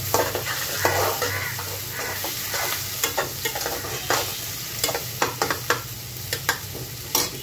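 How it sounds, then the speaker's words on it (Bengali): Onions frying in a pan for pigeon curry, a steady sizzle with repeated sharp scrapes and clinks of a spoon stirring against the pan. "একটু ভেজে নিব পেঁয়াজগুলো"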